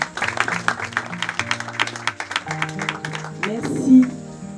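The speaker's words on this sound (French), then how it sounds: "On va l'applaudir encore une fois" An audience claps in applause for a presenter at a live event, a dense ripple of hand claps beneath a voice speaking over it, fading toward the end.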